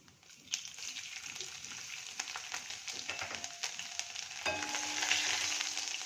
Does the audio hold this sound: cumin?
yes